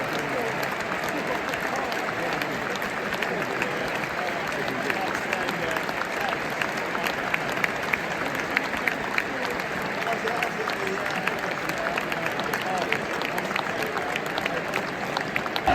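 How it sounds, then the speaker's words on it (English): A large football crowd inside Tottenham's stadium applauds steadily before Remembrance Sunday, a broad continuous wash of clapping with a murmur of voices in the stands. "to receive a lovely round of applause from inside the stadium"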